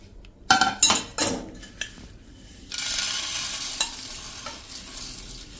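A spoon scrapes and clatters against a pan, followed by a soft, steady sizzle of puffed rice dry roasting until crunchy, with occasional clinks.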